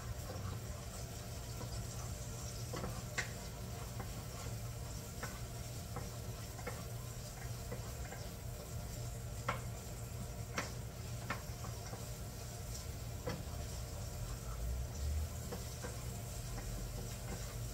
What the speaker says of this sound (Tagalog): Magkikisa po tayo ng bawang at saka bawang at saka sibuyas